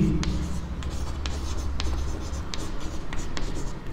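A pen writing out a probability solution for a Class 10 maths exercise, with steady close scratching and short stroke ticks over a constant low hum, and no voice.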